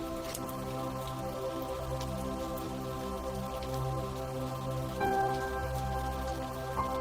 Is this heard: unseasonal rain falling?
yes